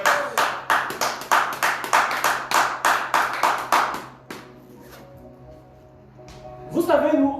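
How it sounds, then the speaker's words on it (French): Congregation at a church worship service claps in a steady rhythmic beat for about four seconds, loud and close, then fades into a low room hum before a brief voice or sound rises at the end. "Est-ce qu'on peut encore acclamer pour Jésus?"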